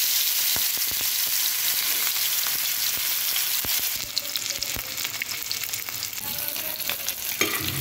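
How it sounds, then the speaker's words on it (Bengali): Chital fish pieces lightly frying in oil, a constant loud sizzle with scattered sharp pops and spits, intensifying in the second half as oil crackles more busily; nobody speaks. "মাছটা 2 মিনিট আমি হালকা করে ফ্রাই করে নিয়েছি।"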